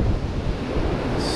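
Ocean surf breaks against the rocks of a jetty, a loud, dense wash of churning water mixed with blustery wind noise on the microphone, continuous through the short stretch with no talking.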